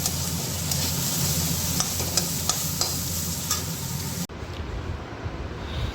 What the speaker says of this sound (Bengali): এটা পেঁয়াজ দিয়ে উচ্ছেটা ভাজা করবো।